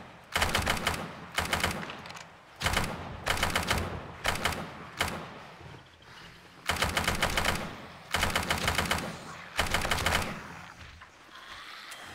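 Rapid automatic fire from a gun in the zombie video game Undead Legacy, delivered in about eight sharp, loud bursts of one to two seconds each, separated by short pauses, with no talking.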